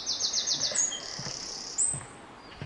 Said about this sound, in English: there's nothing quite like the sound of birds